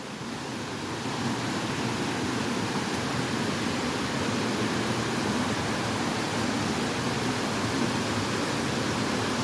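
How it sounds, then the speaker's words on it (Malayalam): Dhoni waterfall on a forest trek roars in a steady, dense rush of falling water that fills the whole stretch evenly, close and loud, with no voices. "ഇതാണ് നമ്മുടെ ധോണി വാട്ടർഫാൾസ് എങ്ങനെയുണ്ട്"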